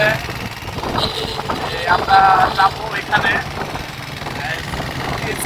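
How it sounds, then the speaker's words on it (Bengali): An old, battered motorcycle engine rumbles and whines steadily on a rural ride to a cattle market, loud and close under someone talking. "ভাঙ্গা চোরা মোটর সাইকেল নিয়ে তাহলে গেতাছি"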